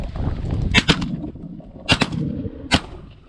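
Shotgun shots while hunting pigeons in a field: three sharp blasts, two close together then one more, loud and near over a low outdoor rumble.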